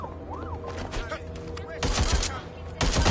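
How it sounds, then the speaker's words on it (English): Gunshots in the Watch Dogs Legion video game, sharp bursts of firing in two loud volleys amid game effects, with voices talking through the action. "Shots fired!"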